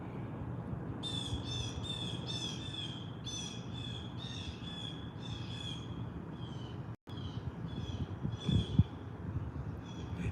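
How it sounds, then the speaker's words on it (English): Repeated harsh squawking calls of several birds, crow-like, in a steady series of bursts over a constant low background rumble, moderately close. "Just listening to the birds."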